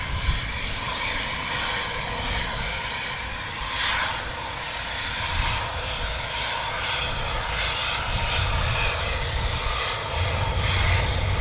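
F-35 jet aircraft arriving at RAF Coningsby during a NATO exercise: a steady, loud broadband engine roar that holds throughout with little change, heard alone with no voices.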